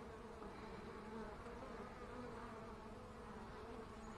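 Carniolan honey bees buzzing around their hive during spring build-up, a dense steady drone of many insects close by, with no talking.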